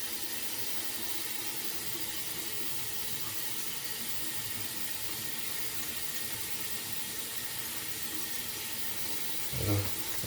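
Steady rushing water runs continuously into building drain pipes during a drain leak test, a broad even hiss like a tap pouring into a drain, with a brief low thump near the end.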